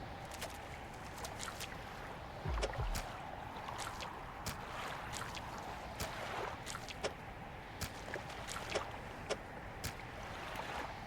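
A small fishing boat in the video game Dredge moves through icy water, producing a steady low wash broken by scattered sharp clicks and ticks, with no speech.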